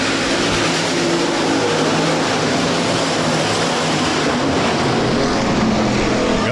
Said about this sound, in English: USRA Hobby Stocks back under green with the A feature.